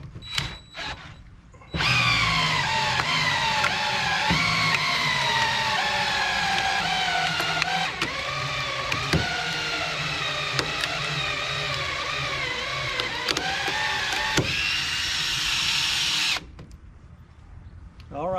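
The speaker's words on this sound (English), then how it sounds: "that was really working my 1/2 inch drill really hard. But it did manage to split it." A 1/2 inch electric drill driving a cone splitter auger into a green log, motor grinding loudly under heavy strain for about fifteen seconds with rising and falling pitch, then stopping once the log splits.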